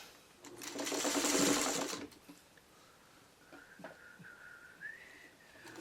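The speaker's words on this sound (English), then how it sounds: "Now we sew it the other way." A sewing machine stitches a quilt block in a steady, loud rapid run of about a second and a half, then stops, leaving quieter handling noises and a faint whistle-like tone.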